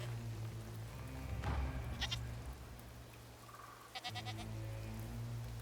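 Goat bleating in the video game Mandragora: Whispers of the Witch Tree, two short quavering bleats a couple of seconds apart over a steady low ambient game drone, with no talking.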